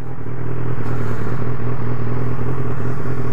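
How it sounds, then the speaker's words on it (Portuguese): A BMW S1000R motorcycle engine idles close by with a steady, deep throbbing rumble and a faint rattle, holding an even level without revving up, with no speech over it. "a gente está mostrando a nova moto do canal"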